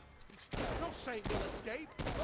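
Gunfire in the video game Saints Row IV, with loud bursts of shots breaking in repeatedly alongside voices talking over the fighting.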